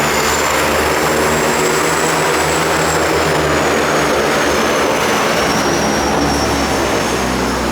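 Seaplane landing at the St Regis Maldives Vommuli resort, a loud, continuous propeller and engine roar close by with a slowly shifting whine, no talk.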